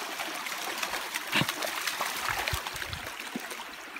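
A dog splashes and plays in shallow creek water, producing continuous trickling and babbling with a few louder splashes and paddling thumps nearby.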